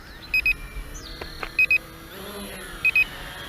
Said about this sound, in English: Of course, we got that annoying beep again.